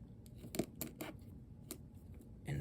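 Several sharp scissor snips cut through thin plastic, spaced irregularly, close by and fairly quiet, with no talking.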